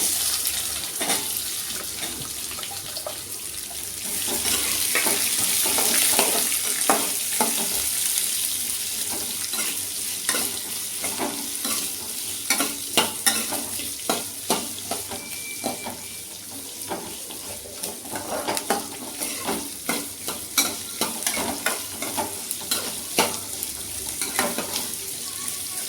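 Onions frying in a pan with chana dal and urad dal, a steady close hiss of sizzling oil broken by frequent scraping clicks of stirring, with no talk.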